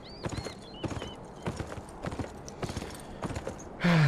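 Hooves beat rapidly on the ground as a horse gallops in the video game Beyond: Two Souls, ending in a sudden loud burst of noise near the close.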